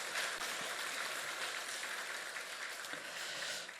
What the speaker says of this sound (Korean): 교사 모두를 위해서 박수해 주실까요?